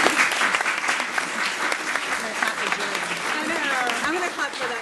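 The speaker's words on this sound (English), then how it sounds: "I'm going to clap for that young woman, too." An audience at a film festival Q&A applauds in a sustained, full round of clapping, with voices and a few whoops mixed into the steady wash.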